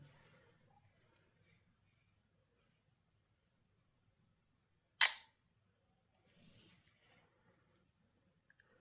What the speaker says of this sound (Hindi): सबसे पहले मैं एक पिक्चर क्लिक करता हूँ।